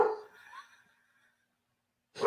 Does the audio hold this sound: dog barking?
yes